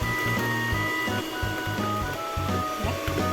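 An electric mixer beats cheese sponge cake batter close up, a steady motor whine with a pulsing, slightly varying pitch that runs continuously with no talk.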